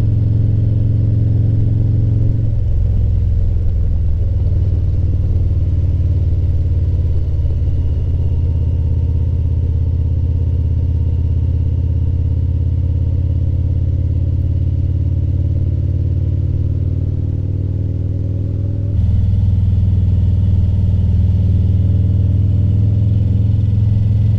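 A motorcycle climbs the highest paved road in North America, its engine a steady loud low rumble with shifting tones as it changes speed, heavy wind-like roar throughout, no talking.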